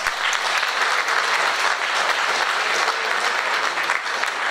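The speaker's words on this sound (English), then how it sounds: "let's give them a loud round of applause" Steady, dense applause from a large crowd fills the room at a high school football signing day ceremony, loud and continuous throughout with no talking.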